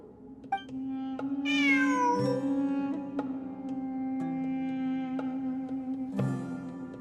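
A cat in Genshin Impact gives a drawn-out meow, the clear tonal cry rising and falling over a steady game hum, with a few soft clicks and a second faint chirp later.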